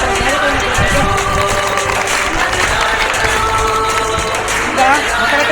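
A crowd at a school parliament election claps and cheers to welcome police staff, with dense continuous applause and voices mixed throughout, fairly loud and steady.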